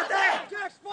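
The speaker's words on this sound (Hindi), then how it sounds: "चारों तरफ मौजूद भीड़ उनका जोश बढ़ाने के लिए नारे लगा रही है।" A crowd gathered around masked militants in Kashmir shouts slogans together, a brief loud burst of massed voices rising and falling in two surges.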